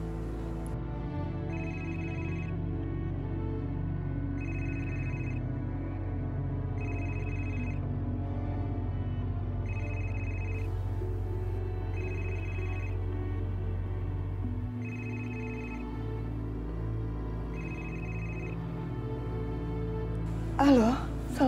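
An outgoing telephone call rings back with evenly spaced electronic purrs, eight repeating beeps at a steady rhythm under a low hum, before a brief sound at the end.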